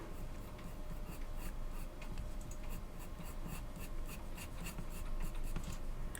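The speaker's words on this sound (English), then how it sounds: "we need to make sure we follow that with our pencil strokes" Pencil strokes on paper while drawing hair, a close, quiet run of rapid scratchy strokes in a steady rhythm, with no talking.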